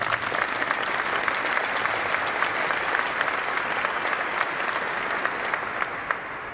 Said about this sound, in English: Another round of applause for Airman Porter.